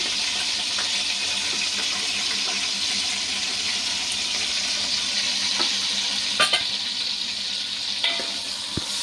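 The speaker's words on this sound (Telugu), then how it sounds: "బాగా వీటెక్కిందండి నూనె దానిలో ఈ ఉల్లిపాయలు వేస్తున్నాను పచ్చిమిరకాయలు కూడా వేస్తున్నానండి" Onions and green chillies fry in hot oil for boti curry, a steady, moderately loud sizzle running throughout, with occasional sharper pops and utensil clicks.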